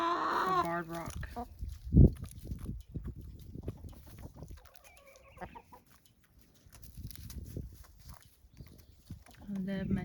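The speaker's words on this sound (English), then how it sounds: "The red chickens are Rhode Island red. And the black and white ones are Plymouth Barred Rock." Rhode Island Red and Plymouth Barred Rock chickens cluck and murmur close by at a backyard coop, with soft scattered calls and one brief louder squawk, while a person talks over them.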